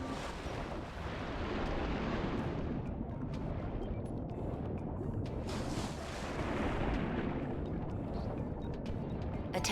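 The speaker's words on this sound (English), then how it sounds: "Press and hold the fire button to lock on to enemy targets. Then let go to launch Predator missiles." Predator missiles launching in the video game Ratchet & Clank Future: Tools of Destruction, a dense roaring whoosh of rocket bursts and blasts that surges twice over the span, loud and sustained with no talk.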